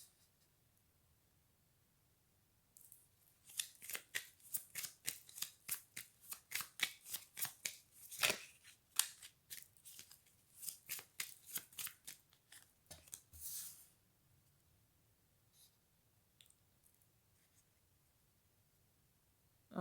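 Tarot cards are shuffled in a long run of quick, crisp riffles and slaps, close and fairly quiet, trailing off into near silence at the end.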